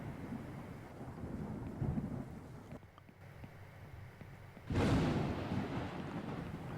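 Weather in the video game SkyDepth, with a low rumbling storm bed of wind and rain that drops briefly, then a sharp loud thunder strike breaks in and rolls on.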